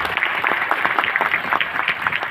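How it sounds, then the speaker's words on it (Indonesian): Teachers and students at a talk show applaud together, a brisk, dense spatter of hand claps at moderate volume, continuous for the whole moment. "Tepuk tangan untuk kita semua."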